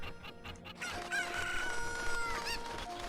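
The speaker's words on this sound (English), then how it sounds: "I'm trying to catch chickens." Chickens cluck and a rooster crows in a scene from The Legend of Zelda: Ocarina of Time, with bright electronic tones and busy background sound running throughout.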